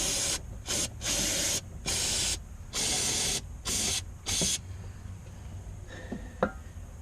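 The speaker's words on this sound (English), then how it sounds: "Now I'm just going to spray this area down pretty good with some brake clean." Brake cleaner sprayed from an aerosol can over an oily engine area while replacing the VVT solenoid on a third-generation Honda Odyssey: about seven loud, close hissing bursts of uneven length with short gaps between them, followed by quieter handling noises.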